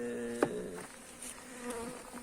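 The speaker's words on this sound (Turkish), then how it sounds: "Şu anda başka bir kovana da açtık." Honey bees humming around an opened beehive during an inspection, a steady insect drone with a few louder passes of single bees close by, no talking.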